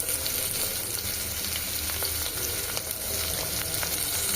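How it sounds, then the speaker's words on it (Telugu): Ridge gourd and tomato pieces fry in hot oil, giving a dense, continuous crackling sizzle close by that stays steady the whole time, with occasional faint stirring and no speech. "ఎర్రగా వేడాక బీరకాయ ముక్కలు అండ్ టమాటా ముక్కలు"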